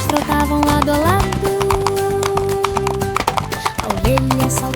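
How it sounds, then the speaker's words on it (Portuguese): Horses trot side by side with a steady clip-clop of hooves, mixed with bright playful children's song music and melodic tones throughout, loud and continuous. "os cavalos trotavam lado a lado"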